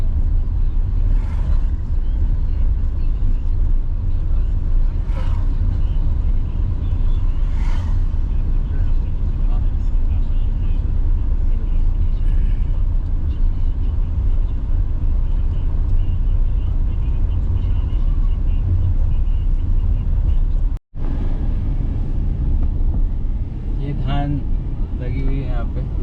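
Steady road rumble and engine hum from inside a car driving along a rural road past flooded fields, with people talking over it throughout and a brief dropout near the end.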